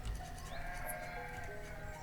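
Sheep in the village-building game Banished bleat faintly, with a few drawn-out calls over a quiet ambient game backdrop and no voices.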